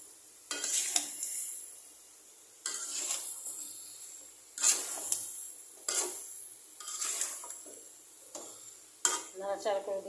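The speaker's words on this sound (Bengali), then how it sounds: "নাড়াচাড়া করে দিলাম।" A spoon scraping and stirring a sugar mixture in a metal pot, repeated clattering strokes at a steady pace, close and fairly loud with quiet gaps between.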